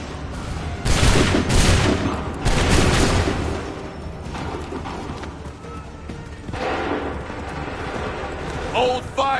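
Musket volleys crash out in the Assassin's Creed 3 video game, several loud, dense bursts of massed gunfire separated by gaps, with shouted commands and battlefield noise in between.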